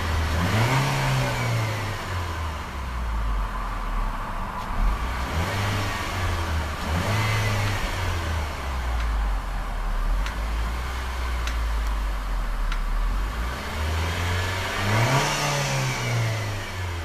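A 2013 Nissan Juke NISMO's 1.6-liter turbo engine revs up several times from idle, rising and falling in distinct bursts, close and loud with no talking.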